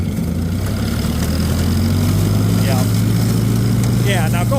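A Farmall Cub tractor engine runs loud and close with a steady low drone that rises slightly in pitch as the throttle opens and it pulls away.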